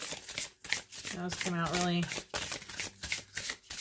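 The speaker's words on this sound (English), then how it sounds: "So some people, they shuffle this way." A deck of angel tarot cards is shuffled in repeated quick riffling bursts, close and crisp, with a person talking over it.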